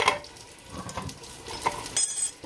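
Water and leftover tomato sauce rinsed from a can are dumped into a cooking pot for hot pepper sauce, giving soft splashes and a few light clinks of metal against metal, close by with no talk.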